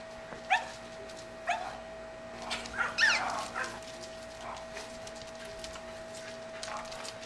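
A dog yips and barks a few times at a distance, with whining in between, over a steady electrical hum.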